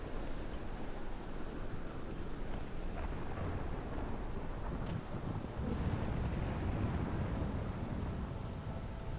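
Stormy weather on the Dagon Fel coast in the video game Morrowind: a continuous low roar of wind and rain with distant thunder swelling slightly midway, steady throughout and without any voices.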